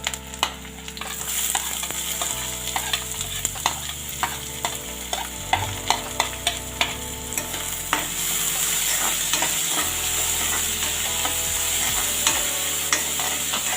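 Finely chopped onion frying in a pan for dal makhani, a steady sizzle with repeated scraping stir strokes, close and loud, no voices.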